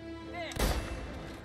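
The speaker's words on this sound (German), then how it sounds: "Ein Schuss." A single loud, booming gunshot in the video game Mafia: Definitive Edition, with a faint tone beforehand and a lingering rumble afterward.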